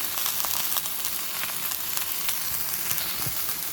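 Three halved green chillies fry in a pan for brinjal chutney, making a steady, close crackling sizzle with small pops and no voices.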